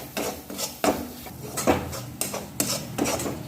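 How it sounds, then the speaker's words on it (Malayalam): Utensil scraping and clinking against a pot while lemon juice is stirred into fish masala for pearl spot (karimeen) pollichathu, in repeated mixing strokes at a steady rhythm, close up with no talking. "ഇതിലേക്ക് ഒരു ടേബിൾ സ്പൂൺ നാരങ്ങ നീര് ഇത് ചേർത്തിട്ട് നന്നായിട്ടൊന്ന് മിക്സ് ചെയ്ത് കൊടുക്കണം"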